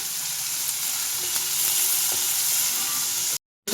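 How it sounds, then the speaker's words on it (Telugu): Chopped onions, curry leaves and slit green chillies sizzle in hot oil for a boti fry, a loud continuous crackling hiss up close that cuts off abruptly near the end. "తరిగి పెట్టుకున్న ఆనియన్స్ చిన్న ముక్కలు కట్ చేసిన ఆనియన్స్ కొంచెం కరివేపాకు ఒక రెండు పచ్చిమిరపకాయ చీలికలు వేసుకోవాలి దీన్ని బాగా వేపాలి"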